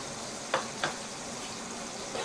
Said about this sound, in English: if you do that at this kind of a temperature, when it's smoking like this, if you can just get that nice sear on both sides